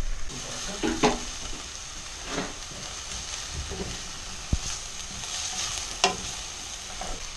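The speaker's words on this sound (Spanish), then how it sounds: "Agrego el ajo para que sea se impregne el sabor con la cebolla." Garlic and onion frying in a pan, a soft steady sizzle with occasional spatula scrapes and one or two sharp clinks against the pan, close and fairly quiet.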